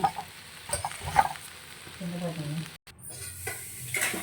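Paneer cubes with green peas and beans sizzle and crackle in a hot pan under brief stirring, fairly close and moderately loud, with a short dropout near the middle.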